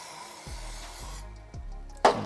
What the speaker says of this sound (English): spray it out, a little bit of contact cleaner.